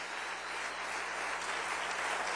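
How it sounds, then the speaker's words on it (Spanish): A church congregation applauds for the King during a Spanish-language service, a fairly quiet, even, continuous clatter of many hands heard from a distance and holding steady for the whole moment. "Dale un aplauso al Rey bendito"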